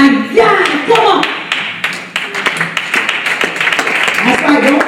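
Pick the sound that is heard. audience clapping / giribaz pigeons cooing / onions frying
audience clapping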